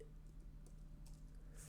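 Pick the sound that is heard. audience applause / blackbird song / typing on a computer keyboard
typing on a computer keyboard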